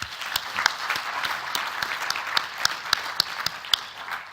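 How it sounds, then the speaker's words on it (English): A university graduation audience applauds in a sustained, dense round of clapping, with a few sharper claps standing out near the microphone throughout, and no speech over it. "Another clap for her, please."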